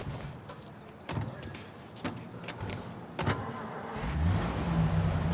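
A car in Mafia: Definitive Edition hums along with a low engine drone and a few sharp clicks and knocks, the engine note rising toward the end, with no talk.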